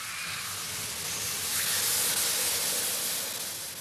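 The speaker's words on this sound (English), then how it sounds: "they've kept a lot of their old steam engines, and not just for nostalgia" An old steam engine hisses at Bulawayo Station, Zimbabwe, a loud, steady rush of steam that swells in the middle and eases slightly toward the end.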